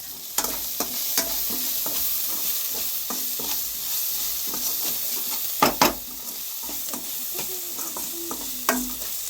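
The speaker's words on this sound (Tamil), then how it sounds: "எல்லா பொருளையும் நல்லா வதக்கியாச்சு" Ingredients sautéing in a pan for dinner balls in a village kitchen: steady sizzle punctuated by repeated spatula scrapes and metallic knocks, a couple louder clanks, close and without speech.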